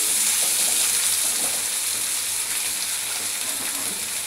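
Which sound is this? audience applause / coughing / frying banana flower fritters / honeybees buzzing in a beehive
frying banana flower fritters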